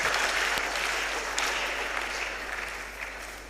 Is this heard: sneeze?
no